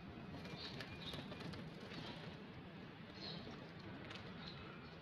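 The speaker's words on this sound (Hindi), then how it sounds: "ये ब्रीडर कबूतर दोस्तों, चंद कबूतर, ज़्यादा तो नहीं रखे हुए" Breeder pigeons in their loft give faint, soft cooing calls over a steady low background rumble, with no voices.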